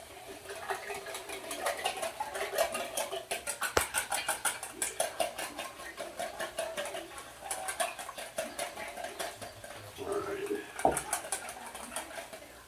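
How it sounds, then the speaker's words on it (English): Eggs and milk whisked for French toast, a fast, steady rhythmic clicking of a whisk against a bowl that runs for several seconds and pauses briefly, with talking over part of it. "Just like that, whisk them up"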